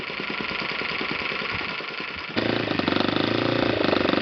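An Enya 53 4C four-stroke model engine idles with a steady, rapid popping beat. Partway through, the sound suddenly turns louder and harsher and then keeps running evenly, close up with no talking.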